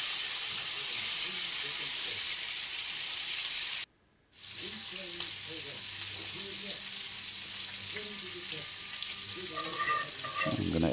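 Roux for creamy bacon mac and cheese sizzles steadily in a pan with stirring, cutting out briefly before resuming, while faint voice-like tones sit underneath.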